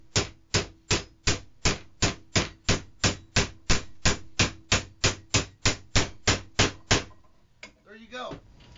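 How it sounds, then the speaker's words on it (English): A hammer strikes hard in a fast, even rhythm, about twenty sharp blows in a row, then stops, followed by brief shuffling and a voice. "obviously the hammer is going to work"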